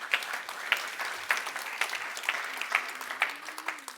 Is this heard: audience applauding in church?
yes